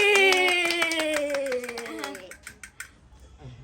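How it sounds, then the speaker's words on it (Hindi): A few sharp hand claps at a home birthday feast, sounding under and just after a sliding, tuneful voice, then trailing off into quieter sparse claps. "ताली"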